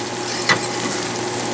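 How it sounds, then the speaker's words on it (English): Shallots, garlic and butter sizzle steadily in a pan, a soft even hiss throughout with one brief stir near the middle. "now we're gonna start with the sauce with the shallots and garlic and butter"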